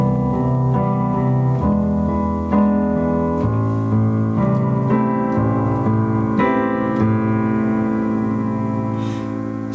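Chord progression from a song played in full as a final variation, sustained harmonic chords changing every second or so, steady and full, alone with no talk.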